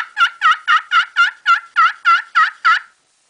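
Nine steady, evenly paced yelps from a Primos turkey call imitate a wild turkey, loud and close with no talking, ending in silence.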